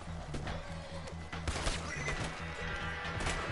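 A horse in Red Dead Online on PS4 neighs, with hoof clops and a low rumbling hum behind the whinny.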